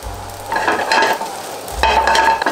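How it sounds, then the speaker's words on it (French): Croutons tossed over high heat in sunflower oil and butter, a loud close sizzle with two rattling, scraping bursts as the pan is shaken and stirred. "je fais sauter mes petits croûtons comme ça, tranquillement"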